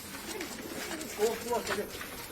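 Soft pigeon coos rise and fall in short phrases, a few nearby birds murmuring over low background noise, with some faint voices present.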